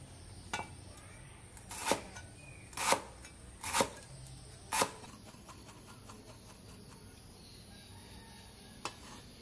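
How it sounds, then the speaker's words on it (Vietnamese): A knife chops crushed lemongrass on a cutting board: five sharp, separate strikes ring out near and clear, followed by a run of faint, quick light taps, with no talking. "Hai cây sả mình đập cho nó dập dập rồi để mình cắt mình băm nhỏ ra cho nó dễ."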